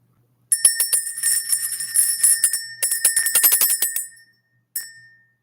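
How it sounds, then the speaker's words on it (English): A small spiritual cleansing bell is shaken in rapid, continuous jingling bursts, bright and close, with a brief pause and a final short ring at the end. "Let's ring the bell."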